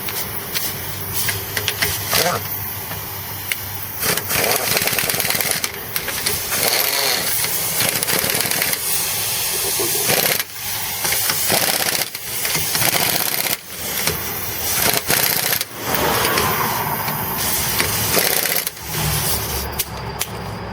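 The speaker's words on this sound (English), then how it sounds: "Okay, here we go with the torque gun." A torque impact gun on a low setting drives the lug nuts of a 2005 Nissan Murano's aluminum rear wheel, giving repeated loud, rattling bursts broken by short pauses throughout.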